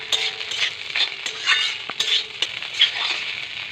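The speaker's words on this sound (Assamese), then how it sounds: "এনেদৰে 2-3 মিনিটমান লৰাই দিম" Mixed vegetables frying in a pan with chaat masala, stirred for a couple of minutes: a bright, close sizzle under repeated scraping and clinks of a utensil against the pan, in an irregular rhythm with no talking.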